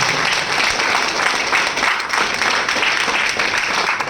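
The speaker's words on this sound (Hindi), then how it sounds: "बचाओ जोरदार तालियां" Sustained, dense audience applause at a business opportunity presentation, loud and steady throughout with no gaps, a crowd clapping together without speech over it.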